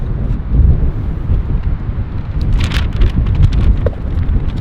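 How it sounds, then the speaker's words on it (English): Steady rushing wind buffets the microphone with low rumbling gusts throughout, with a few faint higher rustles near the end. "It's a little windy."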